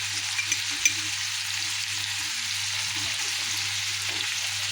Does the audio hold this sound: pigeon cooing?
no